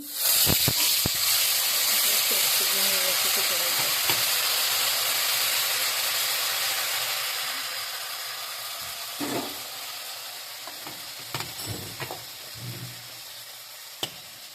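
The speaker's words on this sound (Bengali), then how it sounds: "এবার আমি মিক্সি করা মশলাটা তেলের মধ্যে দিয়ে দিচ্ছি" Ground spice paste hits hot oil with a loud, close hissing sizzle that slowly eases, punctuated by scattered stirring clinks and scrapes of a spoon against the pan.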